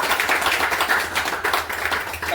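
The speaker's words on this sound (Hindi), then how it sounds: "ताली बजा सकते हैं आप एक जोरदार" Loud, dense clapping from an audience at a weekly business meeting in Kalwa, a steady broadband patter of many hands sustained evenly throughout without pause.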